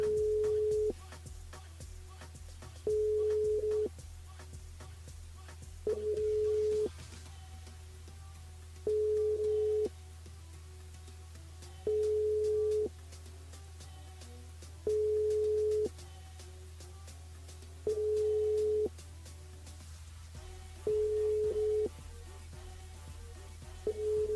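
A phone call to a radio station switchboard rings out unanswered, repeating a steady ring tone in regular bursts about every three seconds over a constant low hum, faint and with no voices.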